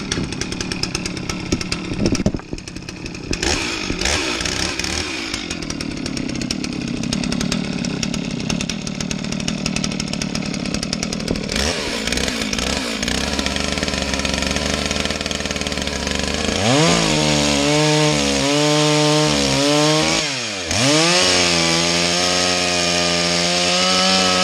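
A modified, tuned chainsaw roars loudly and continuously as it bites through wood, then revs up and down in pitch toward the end; no voices.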